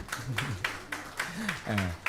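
Audience at the Ghana Digital & Innovation Week 2025 launch claps in sparse, fairly regular beats, roughly three per second, heard under a voice talking throughout.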